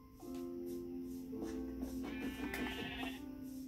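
A black sheep in the Minecraft video game bleats in a drawn-out wavering call with clear harmonic tone, followed by a second bleat, standing alone over a quiet ambient game background.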